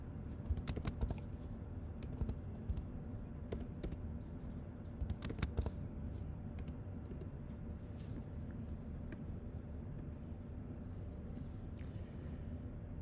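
Computer keyboard typing as a function is entered into the Desmos graphing site, with quick clusters of soft key clicks at the start and in the middle, then mostly quiet low room hum with a few isolated taps.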